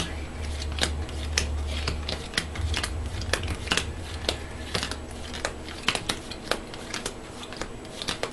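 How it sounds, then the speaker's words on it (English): Gloomhaven attack modifier cards being shuffled by hand on a table, quick crisp riffles and sharp flicks in irregular bursts alongside a low hum, close and fairly quiet. "We're just going to make a quick little shuffle."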